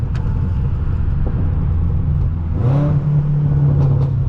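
A tuned 800 HP BMW M6 drones loudly on a New York City street, with a gear shift near the end raising the engine tone; the exhaust pops are not clearly distinct.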